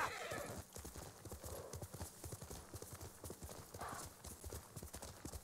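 A horse in the Ghost of Tsushima: Director's Cut video game on PS5, its hooves clip-clopping in a fast, steady galloping rhythm, close and clear, with occasional whinnies.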